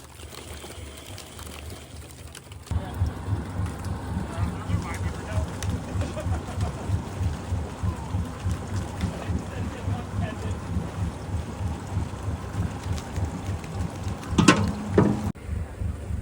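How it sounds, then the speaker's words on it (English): A low, steady rumble of a fully loaded commercial salmon fishing boat's engine exhaust underwater in Alaska, churning continuously with a throbbing, watery undertone, starting abruptly after a quieter moment and running on at even loudness. "If you sit on the back, you can hear the exhaust underwater."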